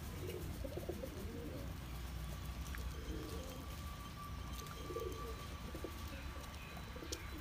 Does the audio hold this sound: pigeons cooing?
yes